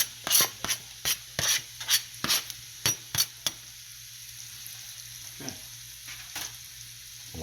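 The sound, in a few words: peppers and onions cooking on the grill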